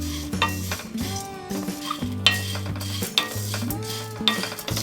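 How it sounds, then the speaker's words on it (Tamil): Drumstick leaves sauté on a low flame for idli podi, with a spatula scraping and stirring the pan in uneven strokes over a light sizzle. The sound is close and there is no talking. "நல்லா சிம்மில் வச்சுட்டு பொறுமையாக நம்ம வதக்கி எடுத்துக்கலாம்."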